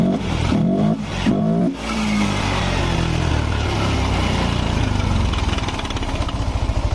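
A Yamaha Nmax scooter with a noisy engine that stalls revs up after a few sputtering dips, then settles into a loud, sustained buzzing drone close to the listener.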